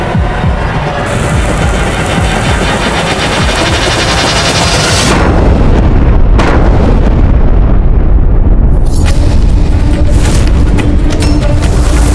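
Cannon artillery fire and explosions in a televised Mughal-era battle scene, a dense, continuous barrage of booms and bursts that swells louder partway through and keeps rumbling with no talk over it.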